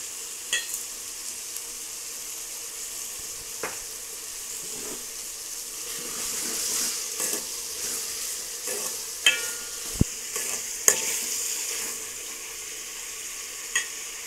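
Brinjal and greens curry being stirred in a pan makes soft scraping and bubbling, with scattered spoon knocks on the pan and a faint watery hiss, all fairly quiet and without voices.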